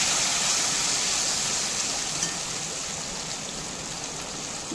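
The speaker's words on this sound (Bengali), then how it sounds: "এরপর কাঁচা লঙ্কা পোস্ত যেটা পেস্ট বানিয়েছি, সেই পেস্টটা এখানে দিয়ে একদম লো হিটে এটা 1 মিনিটের মতো ফ্রাই করে নিচ্ছি।" Green chili and poppy seed paste fries on low heat in a pan, a soft continuous sizzle like light rain, steady and gently fading, with no talk.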